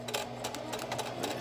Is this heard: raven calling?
no